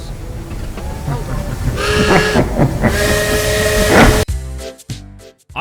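A steam train in the Ark Ascended video game lets out a long, loud whistle with bright tonal blasts over a steady rushing hiss. It then cuts off abruptly into shorter, choppy bursts of sound.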